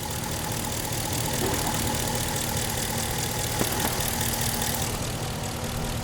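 A V8 engine idles steadily in a 2020 Ram 1500 Classic Warlock pickup, a continuous low rumble throughout with no talking and one faint click partway through.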